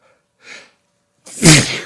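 A single loud, close sneeze, preceded by a short sharp intake of breath.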